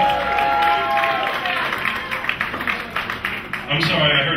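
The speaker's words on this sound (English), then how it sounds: "Give it up for the Rocky Horror Picture Show fans in the crowd" Comedy club crowd at a local-stage standup show clapping and cheering, a broad sustained wash of applause with scattered whoops, fading slightly toward the end.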